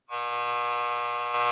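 A quiz buzzer on an aviation podcast gives one steady, loud electronic tone lasting about a second and a half, rich in harmonics, with a slight swell just before it cuts off.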